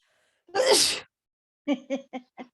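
A single loud sneeze bursts out close by, followed a moment later by a few short spoken words.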